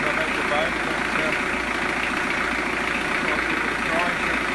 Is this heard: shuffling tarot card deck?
no